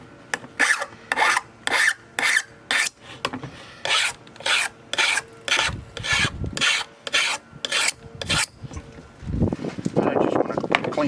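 A metal file rasping a burr off a part from a Craftsman 40cc 18-inch chainsaw, in steady rhythmic strokes, about a dozen even passes, close and loud, then rougher scraping at the end.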